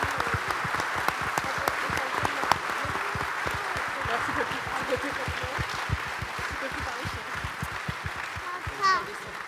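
An audience claps for five people who have just given testimony at a Téléthon launch event, a sustained round of applause with sharp individual claps standing out and some voices mixed in underneath.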